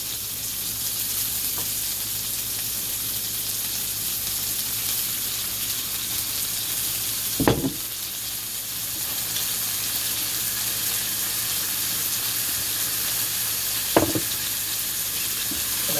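Burgers frying in a pan alongside already-sautéed mushrooms give a steady, close hiss of sizzling grease that stays level throughout, broken by two brief knocks of utensils against the pan.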